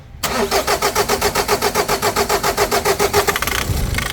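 A Mazda BT-50 or Ford Ranger pickup engine, hard to start and with a knocking fault, cranks with a rapid rhythmic chugging from the starter, struggling for several seconds before catching and rumbling at the end.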